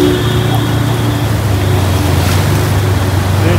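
Floodwater on a city street in Muzaffarpur surges and rushes steadily, a dense continuous wash of churning water with a low rumble underneath, loud and close, with no talking.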